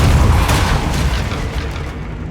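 A Depulso spell in Hogwarts Legacy goes off as a heavy, booming blast, a loud burst at the start that rumbles and slowly fades over a couple of seconds.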